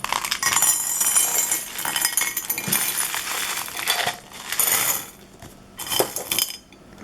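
Glass beads pour from a jar into a glass dish, a dense continuous rattle and clinking cascade that swells and thins in bursts, loud and close, with a few sharper individual clinks near the end.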